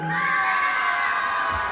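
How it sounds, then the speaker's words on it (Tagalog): An audience at a pageant-style show cheers, whoops and shouts continuously, a dense loud roar of many voices that holds steady without pause. "Wala rin ho ba hiyawan dyan?"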